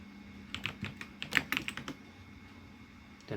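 Fingers tap on a computer keyboard while router configuration is entered: a quick burst of about a dozen crisp, close keystrokes, then quiet, with one more soft tap at the end.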